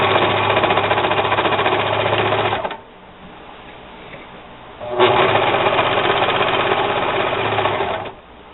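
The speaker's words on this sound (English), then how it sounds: "So I'm going to line the seam that we sewed up with the left needle." Serger sewing machine stitching a seam on an upcycled chenille pillow cover, with a loud, steady high-speed whirring run, a brief pause, then a second equally loud run that stops abruptly.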